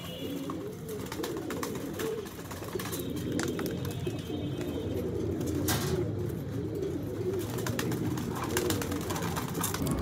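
Pigeons cooing in a loft where chicks have hatched, with low soft coos repeating over a constant murmur of birds and occasional faint chirps.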